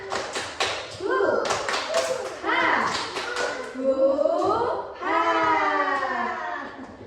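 Children clap out a rhythmic chant at an early childhood education teachers' jamboree, sharp claps landing in quick bursts over the first seconds while young and adult voices chant and sing loudly throughout.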